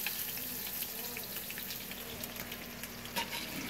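Kokanee salmon fillets fry in a hot pan with a steady, even sizzle and occasional soft pops, close and continuous, with no talking.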